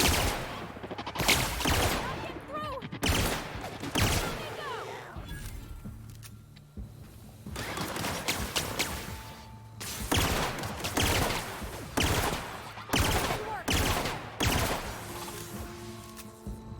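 Gunfire in The Outer Worlds, loud bursts of shots and rapid fusillades in clustered volleys separated by brief lulls, close and punchy throughout.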